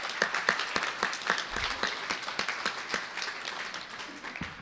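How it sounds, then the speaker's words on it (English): An audience at a campaign kickoff claps for a few seconds, a steady patter of many hands close by and fairly loud. Some individual claps stand out sharply. "I want to clap for him because he's an amazing guy."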